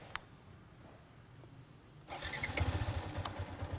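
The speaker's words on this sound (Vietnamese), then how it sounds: "thử cái tiếng ống xả cho các bạn nghe rõ hơn nhé" A Honda Winner X motorcycle with its stock exhaust starts after a quiet, faint hum and a click, catching into a rough, pulsing engine note that settles into a steady close idle.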